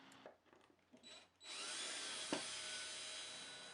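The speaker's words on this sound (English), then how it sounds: "Screw the weather stripping into position." A power drill whirs steadily at close range, driving a screw through weatherstripping into a door frame, after a few brief handling knocks and rubs.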